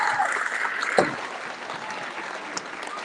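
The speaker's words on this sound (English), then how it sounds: "So let's give a big round of applause to everybody." Sustained applause from an audience at a school awards celebration, steady dense clapping throughout with a slight swell near the start, fairly close and filling the room.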